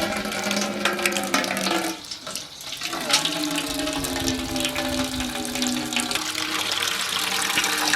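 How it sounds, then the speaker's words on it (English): Water runs steadily into a bucket from a tap for sprouting sweet potato slips, a loud continuous gushing fill whose pitch rises as the bucket fills, with no speech. "We'll get another bucket and put some water in there."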